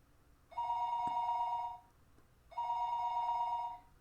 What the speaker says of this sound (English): The phone rang, and I didn't know where the call was coming from.